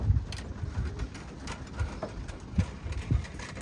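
Racing pigeons cooing inside a loft, soft repeated low coos in irregular bursts, fairly close, with a faint engine-like hum in the background and no talking.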